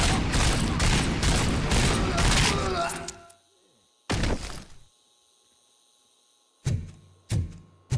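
Bursts of gunfire in RoboCop: Rogue City, a sustained dense volley for about three seconds, then a single loud blast after a pause and two short sharp shots near the end, loud and close.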